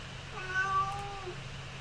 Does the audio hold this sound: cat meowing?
yes